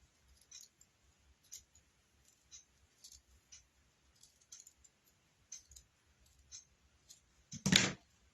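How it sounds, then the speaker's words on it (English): Scissors snipping folded paper into a scallop trim while crafting a coffee can paper towel holder, a series of soft, close clicks spaced irregularly, ending in one louder burst. "I'm going to take my scissors and just do a scallop trim."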